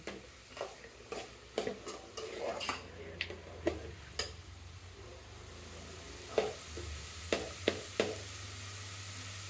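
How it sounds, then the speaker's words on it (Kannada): Tomatoes mashed and stirred with a spatula in a hot pan during cooking: irregular clicks and taps of the utensil against the pan over a steady sizzle, close and fairly quiet. "ಟೊಮೊಟೊ ಏನಾದರೂ ಸ್ವಲ್ಪ ಗಟ್ಟಿ ಇತ್ತು ಅಂದರೆ ಈ ಥರ ಒಂಚೂರು ಹಿಂಗೆ ಹೊಡೆದ್ರೆ ಮೆತ್ತಗಾಗುತ್ತೆ"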